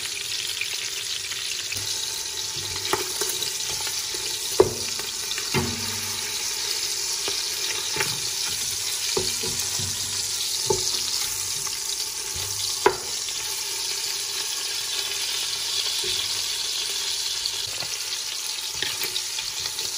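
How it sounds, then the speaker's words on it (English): Short ribs searing in a hot pan give a steady, broad sizzle throughout, broken by a few sharp clicks and light scraping as the meat is turned, with no talk. "you just want to sear it on all sides for about 30 seconds on each side"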